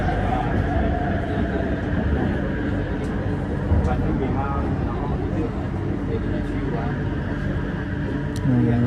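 A passenger train runs steadily and loudly, speeding up on its approach to a station after leaving Lamau, with a continuous low rumble and rattling throughout and a couple of brief clunks.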